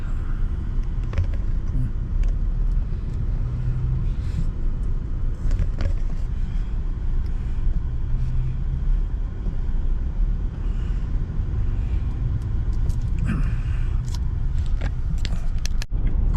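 A car moves through congested road traffic with a steady engine and road rumble, plus scattered clicks and brief knocks, and a voice is heard briefly.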